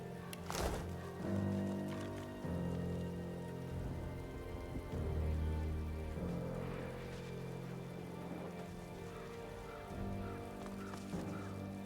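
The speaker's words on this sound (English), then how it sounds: "They even got it to rain outside." Rain falls steadily outside in the video game Divinity: Original Sin 2, a soft continuous patter mixed with a sustained game music bed that shifts through chords, no talking over it.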